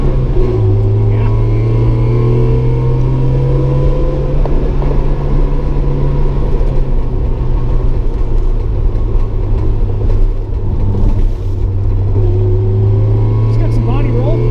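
Lada 2104 wagon engine droning steadily with changing pitch under hard downshifts while driving, loud and continuous from inside the car, with people talking over it.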